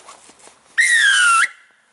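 A single loud, shrill whistle blast is blown with a sharp punched breath and holds for under a second. It sounds close, with faint breathing and small sounds around it.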